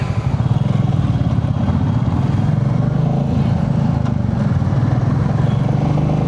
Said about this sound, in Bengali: 4 দিন পরে এরকম স্পিডে বাইক চালাচ্ছি